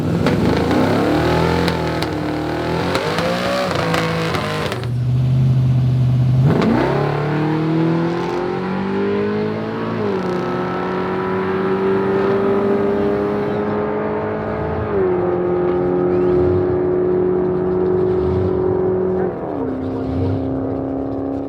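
A drag racing car makes a full pass down the strip, its engine revving hard and climbing through several gear shifts, loud and close throughout.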